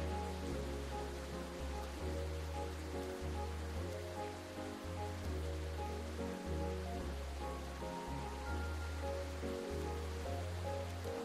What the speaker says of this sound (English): Ew, it's raining!